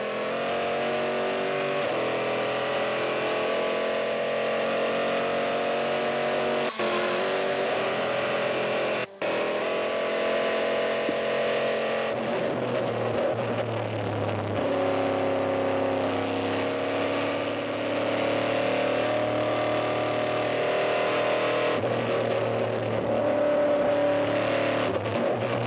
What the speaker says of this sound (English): That wonderful 7 liters, 427 cubic inch of V8 power.